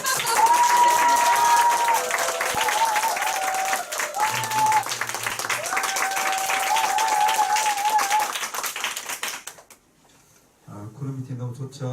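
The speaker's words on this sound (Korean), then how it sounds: "큰 박수 부탁드립니다." An audience at a company group meeting and award ceremony claps in dense, sustained applause under background music, then the clapping fades and a person speaks.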